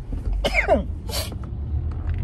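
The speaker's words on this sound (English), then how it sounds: "Excuse me, y'all, sneezing." A single sharp sneeze bursts out at close range, a quick breathy intake followed by a hissy expulsion, over faint room hum.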